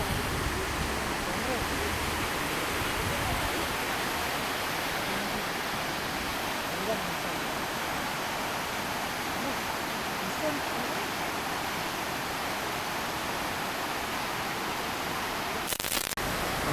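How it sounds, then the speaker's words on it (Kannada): Honnamma Devi waterfall in foggy weather pours in a steady, loud, broadband rush of falling water, constant and unbroken throughout with no voices over it. "ಇವಾಗ ನಾವು ಹೊನ್ನಮ್ಮ ದೇವಿ ವಾಟರ್ ಫಾಲ್ಸ್ ಅಲ್ಲಿದ್ದೀವಿ"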